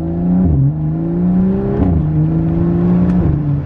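BMW F30 335i with a Bootmod3 stage 2 tune, its engine droning loud and steady up close, with rising and falling revs and a few sharp shifts in pitch.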